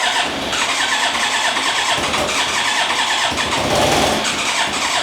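A Yamaha YZF1000R Thunderace motorcycle being cranked without starting: a loud, close starter-motor whir with rhythmic churning that keeps on steadily for several seconds without the engine catching, no voices.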